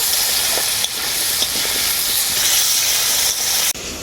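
Cut potatoes frying in a pan, heard as a loud, steady hissing sizzle up close with a few soft stirring knocks, ending abruptly.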